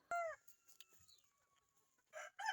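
A gamecock rooster of Texas and Kabir cross clucks close by in a few sharp bursts, with faint crowing and other fowl calling in the quiet background.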